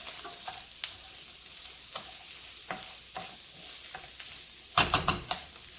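Israeli couscous toasts in a pan with a gentle sizzle while a spoon stirs it in scattered scrapes, ending with a quick burst of clinking stirs; no voices.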